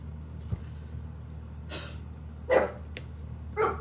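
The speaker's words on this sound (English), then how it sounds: "Sorry, that's my dog." A pet dog barks a few times indoors, short sharp bursts spaced apart over a low steady hum, fairly faint and close by.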